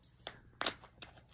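Seal tape being peeled off a new iPhone 16 Pro Max box makes three short, close rips spread across about a second, with no talking.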